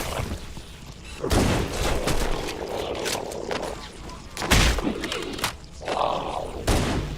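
Weapon fire and explosive booms in Halo Anniversary, heard as irregular loud bursts and thumps spaced a second or two apart over a constant background of game noise and grunting creatures.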